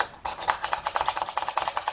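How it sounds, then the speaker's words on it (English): Small hand drill boring a hole through the top of a polymer clay earring piece, a steady run of close, rapid rasping grinds with no talk. "I will drill a hole"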